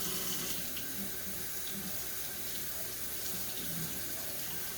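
Rice rinsing under a running kitchen tap, a steady broadband rush of water filling a sink, continuous and close for the whole stretch with no talk.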